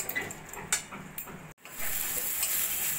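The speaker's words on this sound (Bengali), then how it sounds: "অল্প করে জল দিয়ে মশলাটাকে এইভাবে একটু নাড়া দিয়ে দিয়ে একদম নরম করে নিচ্ছি" Spice masala with onions stirred with a little water in a frying pan over a low flame, a close sizzle broken by scraping stirs, a brief gap, then steadier frying.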